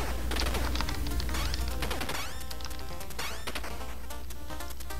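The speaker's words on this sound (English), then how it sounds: "Something about the noise sounds like it's not taking any damage, like the bullets are just bouncing off." Rapid gunfire from the Contra video game crackles in dense bursts over loud game music and explosions, continuous and busy throughout.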